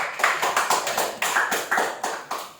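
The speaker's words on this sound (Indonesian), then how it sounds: "Tepuk tangan untuk kelompok 2" Classroom applause for a student group after their presentation: a small number of hands clap close by in a loose, fairly regular rhythm of about a dozen distinct bursts, with no talking.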